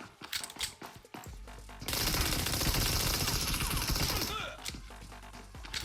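A pistol gunfight in the PUBG Mobile video game, with sparse sharp shots leading into a loud, dense burst of rapid gunfire lasting a couple of seconds before fading back to scattered shots.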